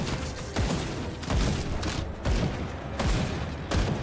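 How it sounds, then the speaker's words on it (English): Crossbow bolts fire in rapid volleys in the dark fantasy action game Grim Dawn, a repeated series of thudding, whooshing shots arriving in irregular bursts over dense, continuous combat noise. "Turn a corner and just get met with a volley of crossbow fire."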